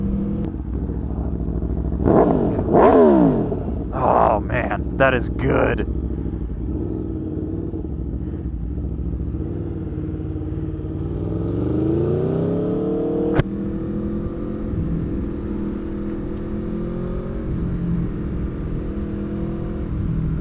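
A 2021 Aprilia Tuono V4 motorcycle with a newly installed aftermarket exhaust, close and loud, idles, then barks through several sharp revs and settles into a rising, sustained drone. A man briefly reacts aloud.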